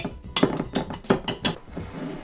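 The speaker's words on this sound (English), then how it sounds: "So just tap the excess meringue off the whisk." A whisk is tapped against a vase to knock off excess meringue made of egg white and sugar, giving a quick run of about six crisp, clinking knocks close by.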